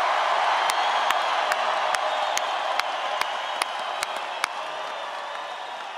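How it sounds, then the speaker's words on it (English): Steady applause from a crowd at a campaign rally in Colorado Springs, mixed with sharp percussive hits at a regular beat, loud and continuous throughout. "Give them another round of applause."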